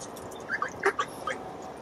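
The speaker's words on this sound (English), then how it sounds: "Ducks are driving me insane." Ducks at a carp fishing lake give a few short, hoarse quacking calls in the middle of the moment, moderately close and fairly faint over quiet outdoor background, with no talking.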